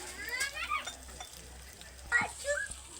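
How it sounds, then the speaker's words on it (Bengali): Rice tossed with spices in a pan for muri ghonto gives a soft scraping stir with a faint sizzle, broken by a few brief bursts of nearby children's voices and household noise in the background. "মশলার সঙ্গে চালটা এরকমভাবে নাড়লে কি হয় বলুন তো"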